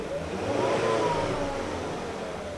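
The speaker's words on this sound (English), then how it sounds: "Would you mind hitting the throttle kind of halfway to the floor and letting it go?" A Volvo C70 engine with hesitation and low power revs up steadily and loud as the throttle is held about halfway, a continuous mid-pitched roar close by that holds and eases slightly.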